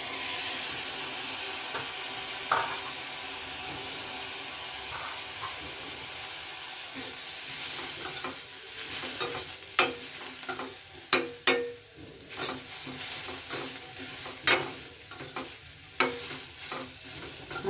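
Tomatoes fry in hot oil in a pan for a village-style chicken sambar, opening as a steady hissing sizzle and then turning busier, with repeated clattering stirs and scrapes of a spoon against the pan, heard up close.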